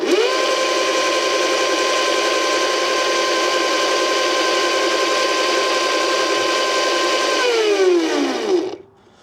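A VALTINSU EM5 electric dirt bike motor revs unloaded, holding a steady high-pitched whine for several seconds before spooling down in a falling tone and fading out near the end.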